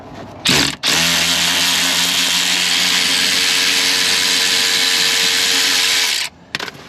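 A battery-powered ratchet spins off a mangled bolt on a Vauxhall Cavalier CD, a loud steady motor whine running for about five seconds after a short first burst, with no talking.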